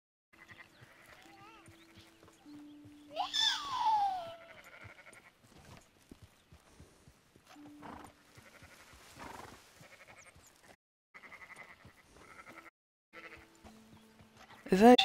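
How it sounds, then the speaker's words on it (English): Sheep bleat in the Red Dead Redemption 2 video game, a few loud wavering calls standing out near the start and again at the end, with a player talking over and between them. "Is that sheep? He's gonna get mad if I shoot sheep."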